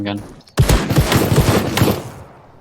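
Revolver gunfire in the video game Krunker.io, a close rapid string of sharp pistol shots over about two seconds, preceded by a brief stretch of voice.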